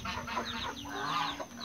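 A young Índio Gigante rooster, nearly a year old and 1.08 m tall, makes short, close clucking and croaking calls in quick bursts over a faint hum.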